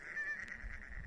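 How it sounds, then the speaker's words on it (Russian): Wild geese honk in a brief, faint, distant call during a goose hunt in the Komi region, heard alone over quiet outdoor air. "Вон гуси, гуси."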